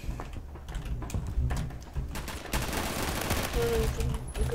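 Rapid gunfire and grenade blasts rattle through an online Phantom Forces first-person shooter match, dense overlapping bursts and booms building into a sustained loud barrage.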